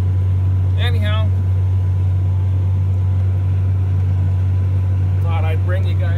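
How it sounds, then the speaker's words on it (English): A tractor engine drones steadily and loudly while cutting hay, a constant close rumble throughout, with a couple of brief voices over it. "listen to the tractor roar"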